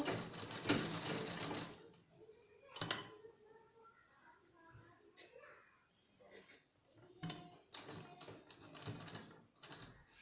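A sewing machine stitches a tie-string frock, running in a loud burst at the start, then short stop-start runs, with quieter handling between and a longer run near the end.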